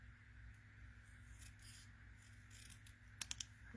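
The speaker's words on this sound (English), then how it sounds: "Okay, I'm going to cut these apart." Scissors cut through card stock for a handmade birthday card, giving a soft continuous scraping glide and then three quick, sharp snips close by near the end, with no talk.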